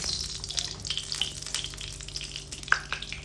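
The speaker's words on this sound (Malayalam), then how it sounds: "നെയ്യ് നല്ലവണ്ണം ഒന്ന് ചൂടായിക്കോട്ടെ കേട്ടോ" Ghee heating in a pan gives a steady, close crackling sizzle with small bright pops throughout, fairly quiet and without voices.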